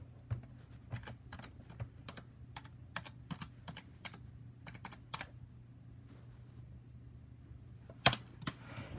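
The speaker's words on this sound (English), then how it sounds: "keyboard." Keys clatter on a computer keyboard in irregular bursts of quick taps, fairly faint over a steady low hum, with a sharper louder clack near the end.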